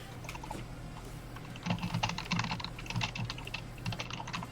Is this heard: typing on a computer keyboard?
yes